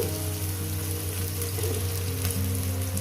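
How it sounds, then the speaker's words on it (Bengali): Chopped onions fry in a pan with a steady, even sizzle and faint crackle, close and continuous with no one talking. A low hum runs underneath. "এগুলো আমি ভেজে নেব"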